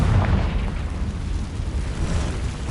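The Confringo fire spell goes off in Hogwarts Legacy as a loud, sustained explosive roar with a heavy low rumble that fills the whole moment without letting up.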